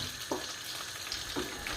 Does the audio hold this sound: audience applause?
no